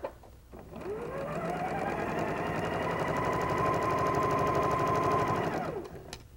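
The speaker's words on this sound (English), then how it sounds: "I'll remove the pin, put the presser foot down, and we'll sew to the edge." A sewing machine stitches quilt fabric toward the edge of a seam, running steadily for about five seconds with a rapid, even mechanical patter that starts and stops cleanly, close and alone without talk.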